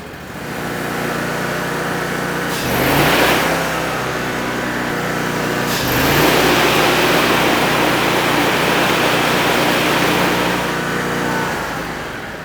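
Lawn mower deck with a string trimmer attachment fitted in place of blades, spinning fast: a loud, steady whirring engine drone with heavy wind-like roar, swelling briefly twice before settling.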